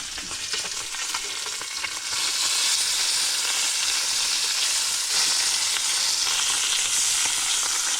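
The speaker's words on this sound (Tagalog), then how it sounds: "so yun nagprito tayo ng lapu-lapo lapu-lapo lang yung hapunan natin" Lapu-lapu grouper fish frying in a pan gives off a steady, loud, crackling sizzle that continues for the whole stretch, growing slightly fuller after the first couple of seconds, with no voices.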